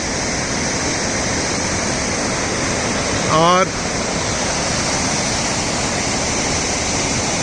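The Kali river rushes at its confluence with the Gori Ganga, a loud, constant roar of fast water like a waterfall filling the whole scene, with a brief spoken word over it.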